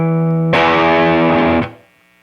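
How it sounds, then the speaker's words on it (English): An electric guitar chord played through a Barber Electronics Gain Changer overdrive pedal rings out with medium gritty overdrive, sustaining about a second before being choked off, loud and alone. "Nice medium level overdrive."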